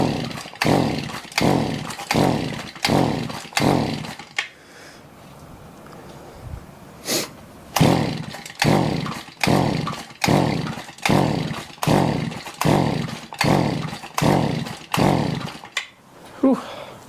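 A Shindaiwa edger's small two-stroke engine, held at full throttle, surges in a steady pulsing rhythm of about two beats per second. It is loud and close, drops to a near-idle for a few seconds, then surges again.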